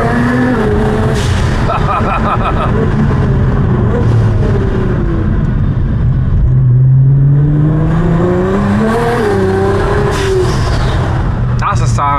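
A Stage 5 Nissan R35 GTR tuned to 840 bhp revs its engine, the pitch climbing and falling through repeated throttle sweeps, loud and close throughout with a voice talking over it.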